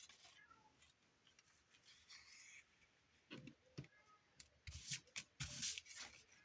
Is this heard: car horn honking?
no